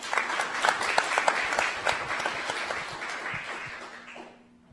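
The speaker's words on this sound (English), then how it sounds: "A round of applause, please, for Zuraida Buter." Audience applause at a games award ceremony, a steady wash of dense clapping from a sizeable crowd that holds for several seconds and then tapers off at the end.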